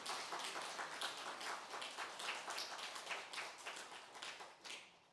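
Audience clapping at a Buddhist dharma service, faint and fairly quick, with distinct claps repeating for about five seconds with no talk over it.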